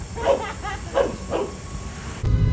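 A dog lets out four close, loud barks in a steady rhythm, followed by a sudden burst of low rumbling noise.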